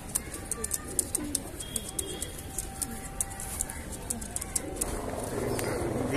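Fulsari kaldumi highflyer pigeons coo and flutter close by, soft repeated calls and sharp wing claps scattered over a steady background murmur of people talking.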